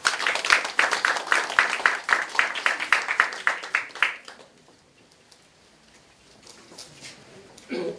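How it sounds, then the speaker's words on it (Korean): Guests at an office opening ceremony clap in a brisk, even rhythm for about four seconds, with distinct individual claps close together, before the room falls nearly silent. "큰 박수 부탁드리겠습니다."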